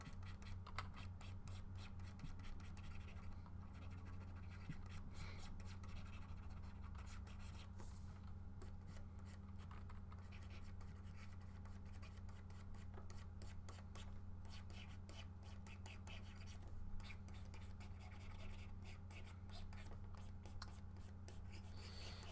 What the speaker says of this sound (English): I don't want to let the pencil scratching take over my voice.